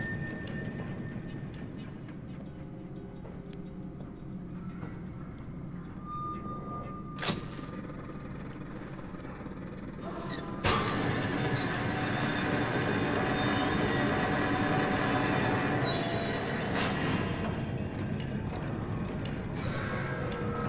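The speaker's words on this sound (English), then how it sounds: "Now, which way was the damn machine? Making noise." Steady low mechanical drone of machinery in the horror game Amnesia: A Machine for Pigs, continuous throughout with sharp metallic clanks around the middle and a slightly louder grinding hum afterward, no voices.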